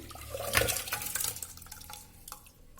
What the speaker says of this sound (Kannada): ಈ ನೀರಿನ ಜೊತೆನೇ ಪ್ರೆಷರ್ ಕುಕ್ಕರ್ಗೆ ಹಾಕ್ತಾಯಿದ್ದೀನಿ